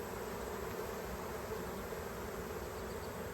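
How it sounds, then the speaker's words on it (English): Dense, steady buzzing of many bees swarming close by at a hive entrance, a continuous droning hum with no voices. "if you want to be afraid of bees, this is what the front of the hive looks like"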